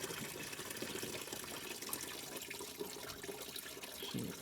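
Coolant drains from a Porsche Boxster in a garage, a steady broadband wash of running liquid, fairly quiet and continuous throughout.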